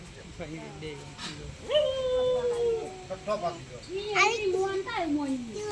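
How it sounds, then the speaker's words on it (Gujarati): A dog howls and whines in drawn-out rising and falling tones while people talk nearby, on a farm field. "બાર કૂતરો આવ્યો."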